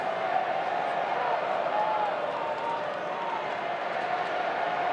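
A crowd of just over 30,000 at an AFL match between Fremantle and Brisbane keeps up a steady, distant roar with a faint chant rising from it, continuous and broad throughout.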